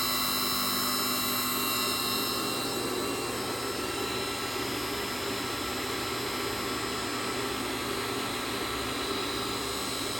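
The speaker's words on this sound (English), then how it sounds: "The inverter is work well. And also can see the motor is running." An electric motor runs under an Allen-Bradley PowerFlex 400 inverter, giving a steady, close hum with a constant high whine over broadband noise. It holds level for the whole stretch, with no talk.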